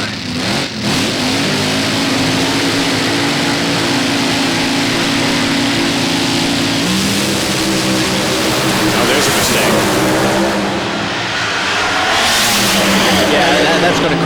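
A drag racing car makes a run at Indianapolis in the Lucas Oil Racing Series, a loud sustained engine roar throughout with a commentator talking over it.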